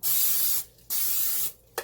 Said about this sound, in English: I'm just going to take my cooking spray